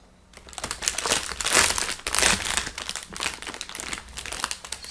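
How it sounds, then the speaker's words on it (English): A wrapper crinkles close up during a chess championship broadcast, with dense bursts of crackling plastic that swell and fade in uneven waves for several seconds. "Sorry about the crinkling."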